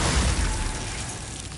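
Confringo blasting spell going off in the Hogwarts Legacy video game: a dense, loud explosive burst with deep rumble that starts at full strength and slowly rolls off over a second and a half, with no voices.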